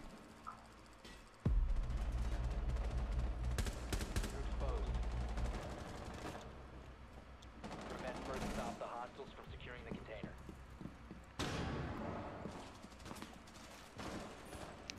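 Gunfire in a Rainbow Six Siege match: a loud burst of rapid automatic shots from teammates, followed by scattered shots and further bursts, with a voice talking over it.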